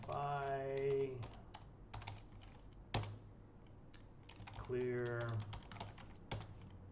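Bursts of quick keystrokes clatter on a computer keyboard, close and crisp, falling between stretches of someone speaking.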